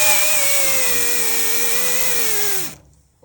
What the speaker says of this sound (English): this is a coral stripping disc